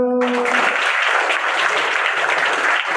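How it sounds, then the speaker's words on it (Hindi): A crowd at a school event bursts into loud, sustained applause, the clapping starting sharply after a brief tone and holding steady and dense to the end. "तालियां बजा दो।"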